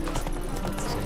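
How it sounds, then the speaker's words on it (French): Hoofbeats of a horse galloping in the video game The Witcher 3, a steady rapid clip-clop under continuous game ambience, close and moderately loud for the whole short stretch. "On va galoper."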